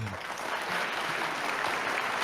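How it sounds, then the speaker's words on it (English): One person claps fast and dense enough to sound like a whole crowd applauding, a steady wash of noise that runs through the whole moment without a break. "He's able to clap and sound like 100 people clapping."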